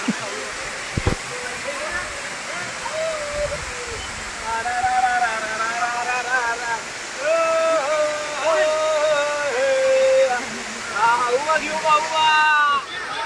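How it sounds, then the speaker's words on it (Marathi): A waterfall at Matheran hill station gives a constant broad rush of falling water, with someone talking over it through most of the stretch. "आता मोबाईल भिजा नका पण बघा असं मस्त पाणी पडतंय"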